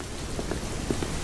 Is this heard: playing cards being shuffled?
no